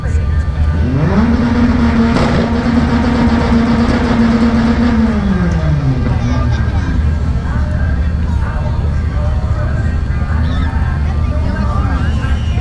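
A 1981 Turbo Trans Am at a drag race, its engine rising in a long revving note for a few seconds, then settling into a steady, loud background of motor noise and crowd sounds, with people talking over it.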